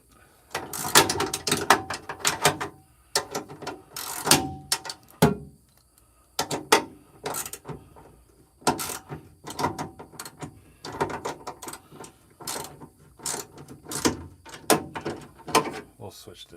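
A wrench ratchets in quick clicking bursts while someone works on a van, the loud rattling runs broken by short pauses and a few metallic knocks, fairly close.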